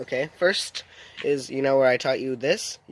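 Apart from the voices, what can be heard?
No everyday noises stand out.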